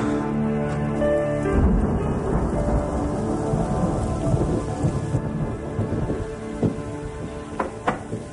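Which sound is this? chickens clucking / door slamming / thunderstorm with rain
thunderstorm with rain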